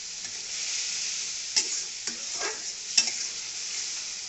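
Spice paste with chopped tomato and green chili stir-fried in a pan, a continuous gentle sizzle broken by a few sharp spatula scrapes and taps, with no voices.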